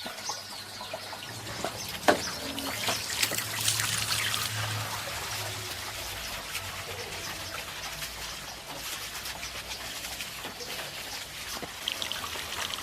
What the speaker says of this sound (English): We have spread the pine needles here on the roof and are now washing them down with water to see how they settle on the DaRi-System part.